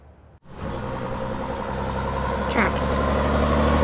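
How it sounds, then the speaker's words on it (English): A truck engine idles and rumbles loudly at close range, a steady mid-pitched drone that swells slightly toward the end, with a short cut near the start. "Truck."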